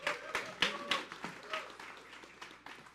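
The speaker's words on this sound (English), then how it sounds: "Give them a round of applause." Scattered audience clapping for waitstaff at a festival event evening, a handful of distinct claps that thin out and fade over a few seconds in a reverberant hall.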